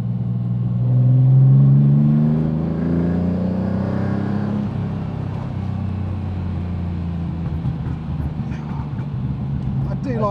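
A TVR Tuscan S engine revs up and down, a loud rising then falling roar that settles into a steady rumble, with faint crackles toward the end.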